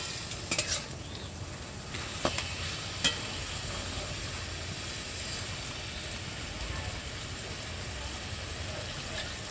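Ginger paste stirred and frying in a hot pan, a steady close sizzle with a few sharp spoon clicks early on, no talking.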